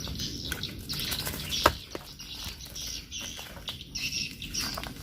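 A bird caught in a simple homemade trap flaps its wings in quick, irregular bursts of fluttering, close by, with faint chirps and light scrabbling between the beats and no voices.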